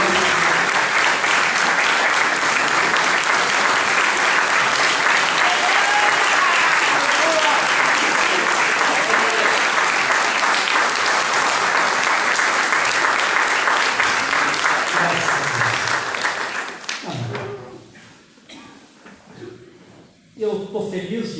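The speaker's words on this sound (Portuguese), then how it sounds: "Os irmãos poderem dar uma salva de palmas para Jesus." A church congregation claps in sustained applause, dense and loud, before it thins out and fades into a few scattered claps near the end.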